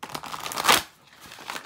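Tarot cards being shuffled by hand, a short burst of dry crinkling riffle peaking once near the middle, then softer papery rustling, close and fairly quiet with no talk.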